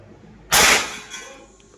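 A PCP Apache Big Game air rifle fires its first shot: one sharp, close report bursts out of near quiet and fades over a brief tail, with faint sounds afterward.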